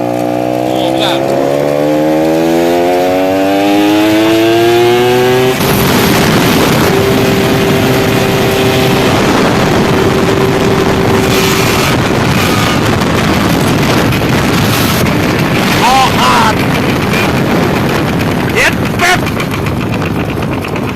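Motorcycle engine running hard with a broken, torn-off exhaust pipe end, a loud raw roar with rising and falling pitch as it revs, mixed with heavy wind buffeting, and someone talking over it.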